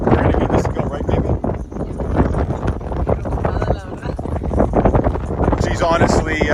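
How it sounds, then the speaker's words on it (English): Strong wind buffets the microphone on a beach in Las Terrenas, Dominican Republic, rumbling in uneven gusts while people talk loudly over it throughout. "there is a lot of wind"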